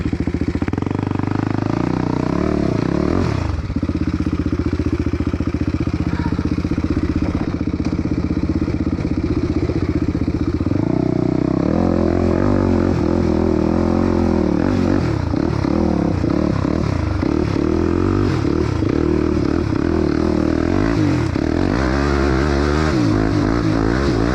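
A Can-Am DS 450 quad bike engine, fully unlocked for more power, roars continuously, revving up and down with rising and falling pitch as it rides, loud and close throughout with no talking.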